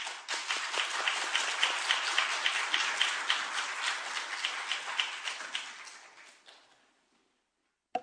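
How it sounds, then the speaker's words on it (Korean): A church congregation claps loudly to welcome the pastor, a dense, steady round of applause that holds for about six seconds and then tapers off to silence. "크게 박수로 환영해 주시기 바랍니다"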